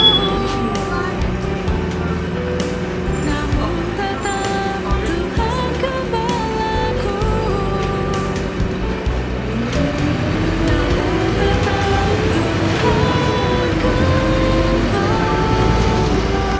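Riding inside a city bus heading to Sydney's CBD, the engine hums and rumbles steadily with road noise throughout, and a voice talks faintly over it.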